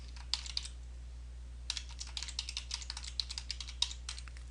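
Rapid clicking of computer keys in two bursts, a short pause and then a longer run of uneven keystrokes, close and fairly quiet.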